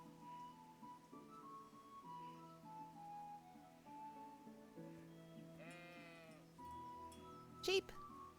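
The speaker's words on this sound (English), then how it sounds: "Sheep." A sheep in a video game bleats briefly over quiet sustained background music, followed by a short sharp click.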